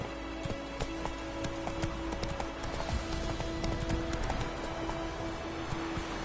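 Horse hooves clip-clop in steady rhythm in The Witcher 3, with a continuous background of rain-like ambience and a faint tonal hum, no talking heard.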